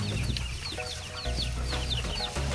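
A brooding hen sitting on eggs in a backyard gives a run of soft, repeated clucks close by, with faint chirps from chicks around her.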